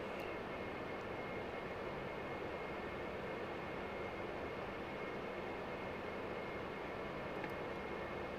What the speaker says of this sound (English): Shut the old aeroplane down.